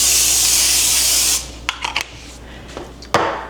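A steady spray of cooking oil onto parchment paper hisses for over a second, then stops, followed by a few light taps and rustles.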